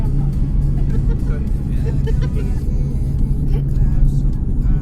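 A car cruising along a smooth, bump-free desert highway on a Pune to Kashmir road trip, giving a continuous, even road and engine drone with little variation.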